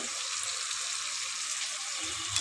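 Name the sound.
potatoes frying with salt and turmeric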